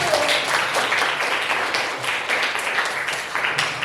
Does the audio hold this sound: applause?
yes